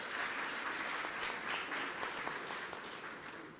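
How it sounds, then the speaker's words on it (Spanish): Steady, moderately distant applause from an audience at the opening of the 15th International Traditional Music Forum, continuous throughout with no voices over it. "Un aplauso"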